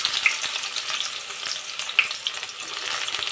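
Chopped onion fries in oil for a thin khichuri with broiler chicken, giving a continuous bright crackling sizzle with scattered small pops, close and fairly loud, with no voices.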